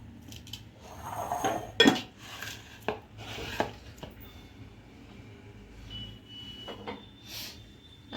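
Water is drained from chillies in a home kitchen and they are moved into another bowl for Gujarati mustard chillies, giving close, irregular clinks and knocks of bowls and utensils with a few sharper taps and no talk.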